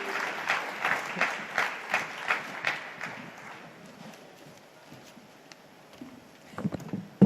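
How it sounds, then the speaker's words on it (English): Awards ceremony audience giving a round of applause for a sports honoree, rhythmic clapping swelling in regular pulses at first, then fading into scattered claps and murmur near the end. "a big round of applause for Gautam Gambhir"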